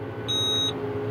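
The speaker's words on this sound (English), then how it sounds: "You heard the beep?" A Case IH tractor's end-of-row sequence control gives one short electronic beep of about half a second, over a steady engine drone inside the cab.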